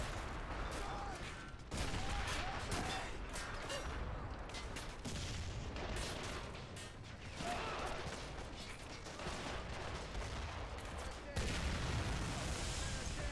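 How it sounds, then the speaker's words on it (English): Video game artillery fire pounding a beach during a troop ship landing, a dense, continuous barrage of booms and gunfire with no letup, with voices talking over it. "There's just so much artillery pounding our beach."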